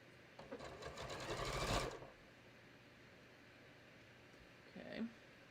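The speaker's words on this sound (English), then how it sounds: "now I'm going to just sew right along the fold, you know, maybe 1/8 of an inch in from that folded edge" A sewing machine runs a short burst of fast stitching along a fabric fold about an eighth of an inch from the edge, close and clear, followed by quiet and a brief second whir.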